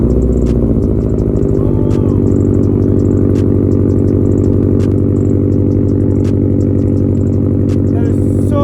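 A loud Tomei Expreme Ti titanium aftermarket exhaust on a Subaru WRX/STI rumbles steadily with a deep, throaty drone and some rattling, close by, with a voice occasionally over it.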